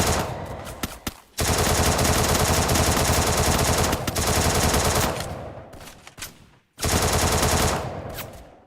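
Rapid automatic gunfire rattles in a Free Fire esports league match, with two long, loud sustained bursts separated by a short pause and a few scattered shots at the start.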